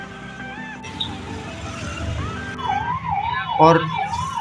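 An ambulance siren wails, rising and falling amid heavy road traffic in India, getting louder toward the end, with a brief spoken word.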